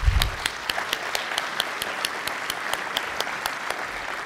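Applause from a banquet audience at a chamber of commerce annual awards dinner for honoured community leaders, steady clapping from a room of people with a few sharp close claps standing out, continuous and moderately loud.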